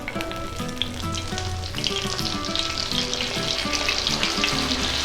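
Oats-coated fish, a less-bony variety, frying in hot oil in a pan: a steady, close sizzle and crackle that grows slightly busier over time, with faint stirring sounds and no speech.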